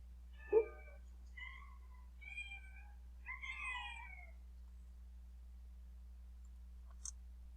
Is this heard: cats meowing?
yes